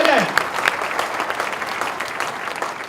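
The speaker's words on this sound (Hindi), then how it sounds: "जोरदार तालियां बजाएं।" A congregation in a church breaks into loud, dense applause that carries on steadily and stays close, with a faint voice briefly audible at the start.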